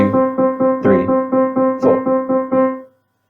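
Semiquavers played evenly at four notes per beat, a steady run of about a dozen short, equal, pitched notes ending in silence.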